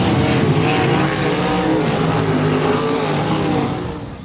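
Sprint cars race at Paragon Speedway, a dirt oval, their engines a loud, continuous roar that stays steady and then fades slightly at the end, with no talking.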